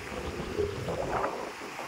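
Sea waves wash near a seaside stop on a ride from General Nakar to Infanta, Quezon, a soft, faint surging hiss with light wind noise, one gentle swell rising and fading.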